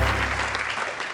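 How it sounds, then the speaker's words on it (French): Audience applause, a short burst of steady clapping from a crowd, loud and continuous for about a second. "on applaudit s'il vous plaît"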